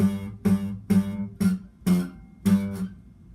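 Six plucked notes on an out-of-tune guitar, each struck and ringing briefly before the next, evenly spaced and clear with no voices.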